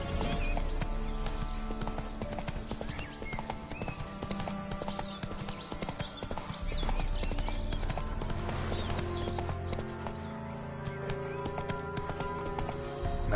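Hooves of Roach, a horse in The Witcher 3, clip-clopping in a steady rapid rhythm over the game's ambient music and background sound, close and continuous, with a brief whinny.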